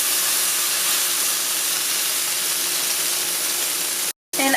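Steak going into a very hot pan over medium-high heat, giving a steady, loud, broadband hiss of searing that runs unbroken for several seconds, then cuts out abruptly near the end before returning.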